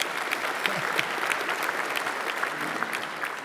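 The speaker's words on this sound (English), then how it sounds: "Another, maybe round of applause." An audience at a business leadership talk applauding steadily, a dense wash of many hands clapping at an even level throughout.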